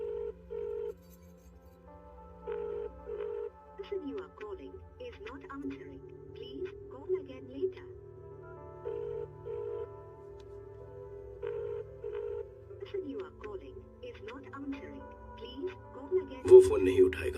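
Telephone ringing unanswered in a dramatic film scene, a faint, repeating pattern of short paired rings spaced evenly apart, heard quietly beneath background music and low sounds, with some speech near the end.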